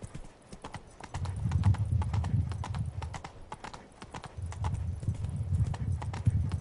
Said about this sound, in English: I think foot would have been faster than riding a horse up here